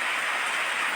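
Steady rain falls outdoors, a dense, even hiss of drops with no voices during the brief moment.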